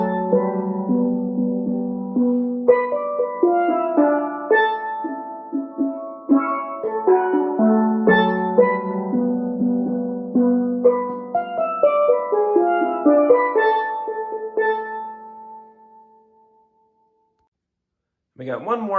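Double second steel pan plays a solo section alone, a steady run of bright ringing melodic notes for about fifteen seconds, then a brief silence before a final struck chord.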